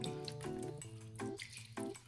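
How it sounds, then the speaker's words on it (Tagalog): Water is poured from a tap into a pot holding bangus sardines in oil for Spanish-style sardines, a soft splashing trickle in uneven bursts at close range, fairly faint, with no talk. "dagdagan pa po natin ng konting tubig"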